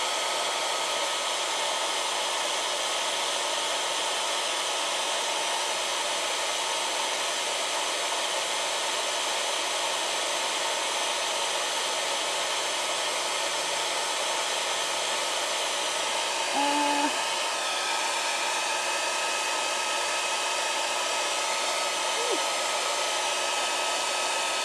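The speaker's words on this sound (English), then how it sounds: "Also helps if I point the hairdryer at that." A hair dryer blows continuously at a steady, loud whoosh with an even whine, running unbroken from start to finish with only a faint brief clunk partway through and no talking.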